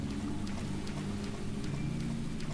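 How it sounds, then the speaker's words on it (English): Heavy rain pours steadily in the video game Deadly Premonition, a dense unbroken hiss with a low rumbling bed underneath, continuous and fairly loud throughout with no voices. "This is this is some serious rain."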